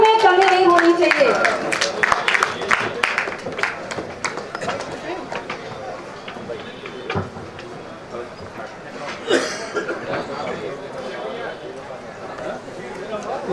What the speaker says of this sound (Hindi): जोरदार तालियां हो जाए, तालियों में कमी नहीं होनी चाहिए